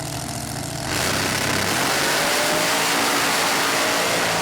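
A blown alcohol dirt dragster launches on a drag run; the engine's idle jumps after a second into a loud, sustained, raw roar that continues to the end.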